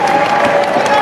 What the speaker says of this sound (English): William Buick about to receive the adulation of the crowd